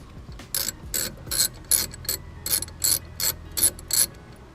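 A ratchet loosens the bottom brake caliper bolt on a 2002-2007 Jeep Liberty KJ during a front brake pad change, giving about nine short bursts of rapid clicking in an even rhythm, close and distinct.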